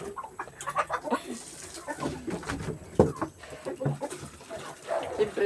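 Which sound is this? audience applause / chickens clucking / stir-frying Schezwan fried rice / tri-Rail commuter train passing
chickens clucking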